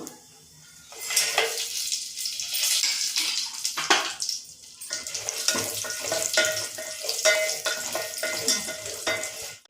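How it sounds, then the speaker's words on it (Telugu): Cumin seeds sizzling in hot oil inside a pressure cooker for bagara rice: a loud, crackling fry that rises after a brief quiet start, with scraping stirs, close by and without speech. "నూనె కాలింది ఫస్ట్ జీలకర్ర వేసుకుంటాను"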